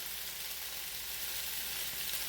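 Potatoes seasoned with salt, pepper, garlic and onion powder fry in a pan with a steady, even sizzle, close and continuous with no talk.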